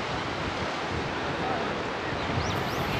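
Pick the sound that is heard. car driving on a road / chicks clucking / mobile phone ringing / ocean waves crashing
ocean waves crashing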